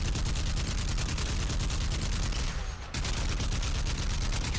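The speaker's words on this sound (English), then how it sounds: "Are you guys shooting at me?" Rapid, continuous gunfire in the Crysis video game on PS3, dense bursts of shots running loud nearly the whole time with one brief dip midway, and no talk over it.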